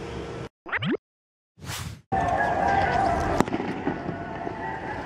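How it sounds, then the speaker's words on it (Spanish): Fireworks set off for the Virgen del Valle festival: sharp whooshing rocket launches separated by silence, then a sustained, loud wash of crackling bursts and rumble. "Eso que ustedes que escuchan, fuegos artificiales y eso, es que están celebrando las fiestas de la Virgen del Valle."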